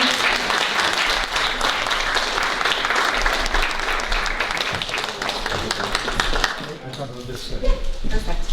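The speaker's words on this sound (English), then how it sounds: "Give them a clap" Loud, close audience applause greets two guests taking the stage at a cultural evening, dense clapping sustained throughout, with voices and laughter mixing in toward the end.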